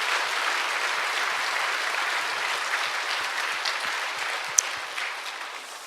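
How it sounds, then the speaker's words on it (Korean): A church congregation applauds during a Korean Sunday worship service, a dense, steady wash of many hands clapping that runs through the whole stretch, fairly close and loud, with no talking over it. "하나님 영광 박수 다시 한번 올리겠습니다"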